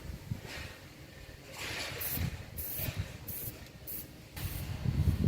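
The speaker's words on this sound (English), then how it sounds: "So, Battle, here's the 5th coat." Paint sprayed in several short bursts as the fifth coat goes onto a surface, a soft airy hiss rising and stopping repeatedly, fairly close, with low rumbling background noise and no talk.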